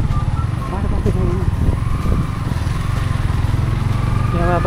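A motorcycle rides along a broken, slippery mountain road, its engine droning steadily and close throughout, with speech over the top.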